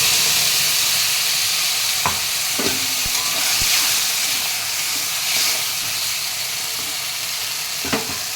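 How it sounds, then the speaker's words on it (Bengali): Ground spice paste hitting hot oil in a pan with drumsticks, a loud continuous sizzle and hiss with occasional sharp clicks of a spoon against the pan, close and without speech. "এখন এই মশলা বাটাটা দিয়ে দিচ্ছি আমি।"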